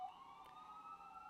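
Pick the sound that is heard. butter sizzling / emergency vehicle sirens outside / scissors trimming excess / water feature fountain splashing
emergency vehicle sirens outside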